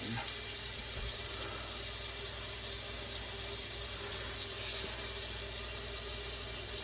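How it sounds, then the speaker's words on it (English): Water runs steadily from a tap into a sink as a constant, even broadband rush that holds at a moderate level throughout with no talking. "It's calming to hear the water"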